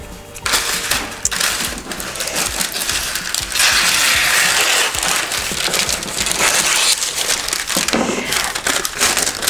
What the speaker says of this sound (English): This rectangle we cut diagonally into two triangle shapes.